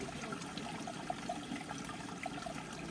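A waterfall-fed stream beside rural land in Tanay, Rizal, flows and trickles continuously at a moderate, close level, with small splashes rising over the steady rush.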